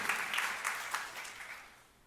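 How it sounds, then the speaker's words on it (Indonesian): Brief burst of congregation applause in a church, dense clapping that fades away within about two seconds, heard at a moderate distance. "Tepuk tangan yang meriah untuk kemuliaan nama Tuhan."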